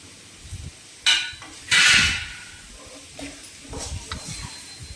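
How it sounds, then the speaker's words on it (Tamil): Chopped bottle gourd is stirred into a spiced curry in a pan, with a sharp clank of a utensil and a louder hissing scrape, followed by quieter scattered rattles and sizzling. "இப்போ நம்ம வெட்டி வச்சிருந்த சொரக்காயையும் சேர்த்து எல்லாத்தையும் ஒன்றா கலக்கி விட்டுடலாம்"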